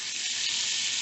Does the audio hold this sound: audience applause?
no